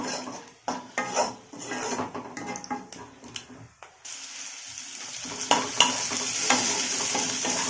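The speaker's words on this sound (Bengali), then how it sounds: "এর মধ্যে দুটো শুকনো লঙ্কা ফোড়ন দিয়ে দেবো" Two dry red chillies temper in hot oil for a bottle gourd peel fry. Spoon clinks and pan knocks come in an irregular rhythm, then a steady sizzle builds and swells toward the end.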